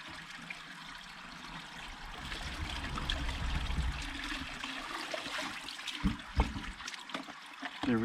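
Water trickling and gurgling into a jug at an off-grid drinking-water source, a soft steady pour that grows fuller, with a few bumps and clunks near the end.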